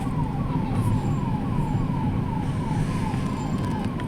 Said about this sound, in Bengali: অ্যাম্বুলেন্সটা যাকে বেরিয়ে যেতে পারছে